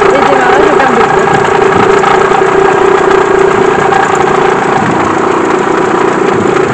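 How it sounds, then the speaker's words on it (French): An engine fires up right away after a blown fuse is replaced, then runs at a loud, steady, close idle with a constant drone throughout. "Et démarrage au quart de tour."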